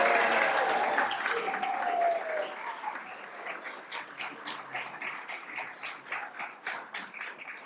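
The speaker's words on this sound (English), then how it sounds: "let's give our inductees another round of applause" Inductees at a college honor society induction ceremony get a round of applause that fades from blended murmur into steady, evenly spaced group clapping at moderate distance.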